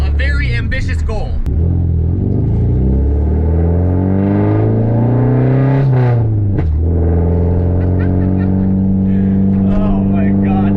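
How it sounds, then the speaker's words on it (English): A rebuilt Nissan 240SX engine drones loudly from inside the moving car, its pitch sweeping up and falling through the gears, with strong steady rumble and an occasional voice underneath. "this thing is so absurdly loud, I'm asking to get pulled over"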